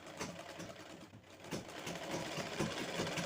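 A sewing machine stitches fabric pieces together for a blouse-piece craft, a steady rapid mechanical whir and chatter of the needle running continuously at close range, briefly slowing before picking up again.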